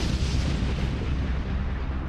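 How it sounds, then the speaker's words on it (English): A colossal explosion on a blazing offshore oil platform at night, heard as a deep, sustained rumbling roar with heavy low-end energy filling the whole moment. "the colossal explosion at 10:50 p.m. rips the end off it and opens up a new escape route"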